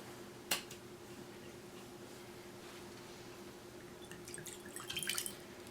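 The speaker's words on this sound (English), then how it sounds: "put in just enough water to cover this base part of the celery right here" Water is poured into a bowl at a kitchen counter for regrowing a celery base: a sharp click near the start, then quiet, then a short trickling splash near the end, faint and close.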